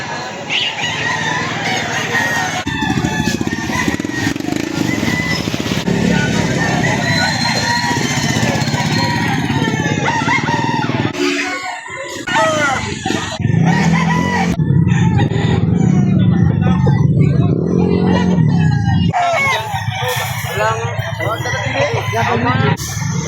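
Many chickens and roosters at a poultry market in Lipa City, Batangas, crowing and clucking loudly and continuously, with engine hum and people talking throughout.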